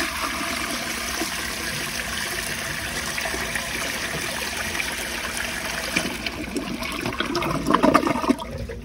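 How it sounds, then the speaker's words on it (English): An American Standard Cadet space saver toilet flushes with a straight down flush, a close, loud rush of water that churns steadily, then gurgles and surges more roughly near the end. "I'll give y'all one last flush with the straight down flush"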